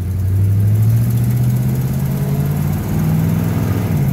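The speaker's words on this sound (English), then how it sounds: "I'm gonna run the car around the building." A 1969 Dodge Coronet R/T with the L-code engine and manual brakes runs steadily around a building, its deep engine rumble loud and close throughout with a slight pitch rise and a brief dip near the end.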